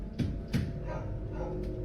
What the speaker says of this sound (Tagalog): Pero may aso eh.